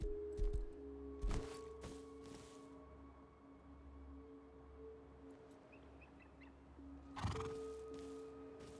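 A horse in the video game Rust gives a few short whinnies and snorts over a faint ambient hum, with quiet gaps between the calls.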